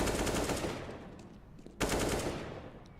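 Rapid bursts of rifle and pistol fire from a CS:GO match on Cobblestone, with AK rifles and pistols in play, loud and continuous, easing off briefly before a sharp fresh volley erupts near the end.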